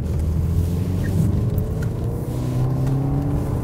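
A Jaguar XF mild hybrid pulls away, its low engine rumble rising softly and evenly, heard from inside the cabin with steady road and interior noise and no talk.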